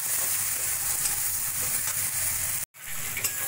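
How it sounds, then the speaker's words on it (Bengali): Masala with ginger-garlic paste frying in oil for a taro root and katla fish curry, a dense continuous sizzle with faint stirring that cuts out abruptly for a split second before resuming. "দিয়ে ভালো করে মশলাটা আমি কষিয়ে নেব।"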